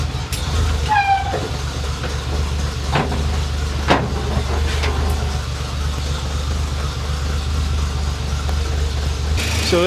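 A car engine idles steadily after some antifreeze has been drained, a continuous low rumble close by with a few brief higher clicks and squeaks over it and no talk.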